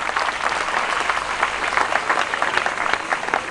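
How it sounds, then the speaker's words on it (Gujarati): An audience at a Garba festival celebration in Porbandar applauds, a dense, steady wash of many hands clapping that holds at an even level from start to finish. "આપણે સૌ તાળીઓથી વધાવીએ"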